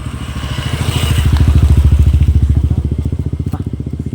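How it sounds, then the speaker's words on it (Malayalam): A motorbike engine putters loudly close by, its rapid throbbing beat swelling as it approaches and then easing slightly as it moves on. "വണ്ടി വരണു വേണ്ട ബൈക്ക് വരുന്നുണ്ട"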